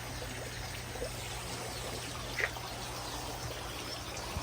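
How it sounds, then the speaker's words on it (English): Water runs into a crayfish pond as a faint, steady trickle and pour, quiet and continuous, with a soft splash near the middle and no voices. "So as you can see, there's the water flowing"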